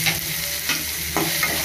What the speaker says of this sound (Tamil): இப்போ வந்து தக்காளி இதே நல்லா வதக்கலாம்.